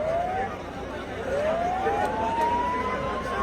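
Ambulance siren at a farmers' protest on the Khanauri border, a steady rising wail that carries over a dense crowd murmur, moderately loud and continuous throughout.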